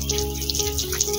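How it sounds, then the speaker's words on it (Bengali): Water poured over a mud-soaked nightie, a short burst of splashing and trickling with uneven little pulses, fairly close and with no talk. "একটু জল দিয়ে দিলাম"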